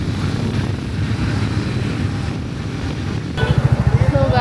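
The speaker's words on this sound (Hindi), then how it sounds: "एकदम बढ़िया हवा चल रही है। और हम जा रहे हैं बाइक से।" Wind buffeting the microphone while riding a motorbike in cool, cloudy weather, a loud continuous rumbling roar that gains a pulsing flutter toward the end.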